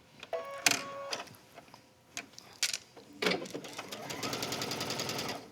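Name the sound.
sewing machine stitching a straight stitch on knit fabric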